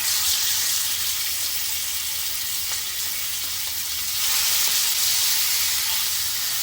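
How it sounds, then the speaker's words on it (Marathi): Marinated pomfret fish frying in oil on a hot tawa, a loud continuous close sizzle with steady crackling and hiss, no voices. "आपण पापलेट घालूया तळायला"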